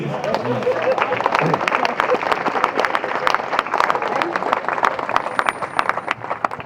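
Audience applause at a poetry recital, dense and steady clapping from a large crowd that fills the whole stretch at a loud, even level.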